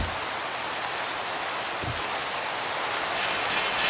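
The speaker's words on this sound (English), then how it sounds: "This wouldn't be Minecraft without the rain." Rain falling in Minecraft, a dense, even hiss of steady downpour lasting the whole stretch at moderate level, with no voices over it.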